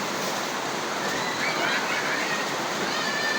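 Torrential rain keeps pouring over a flood-prone village, a thick constant wash of noise, near and steady, with faint higher streaks of running water and no speech.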